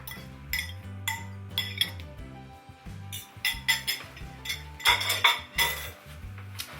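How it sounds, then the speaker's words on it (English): Three large farm-fresh eggs are whisked in a bowl, giving quick, irregular clinks and scrapes of metal against the bowl that come in bursts, close and clear, with no speech. "whisk them in this bowl or beat them lightly"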